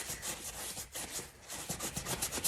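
Steady rubbing of paint into an UGG boot, a soft continuous scuffing with repeated strokes, close and fairly quiet with no talking.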